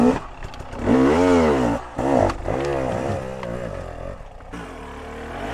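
A hard enduro dirt bike chugging in second gear, up close and loud, its revs rising and falling in uneven surges with a short dip partway through.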